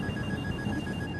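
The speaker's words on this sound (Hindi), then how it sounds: "फोन आ रहा है, फोन आ रहा है।" A telephone rings with a steady electronic tone that fills a brief moment over a busy, noisy background.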